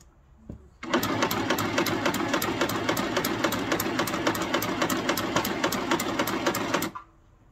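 A WE R MEMORY Stitch Happy sewing machine runs a straight stitch in one continuous burst of about six seconds, a loud, close, fast rhythmic clatter of needle strokes that starts and stops abruptly.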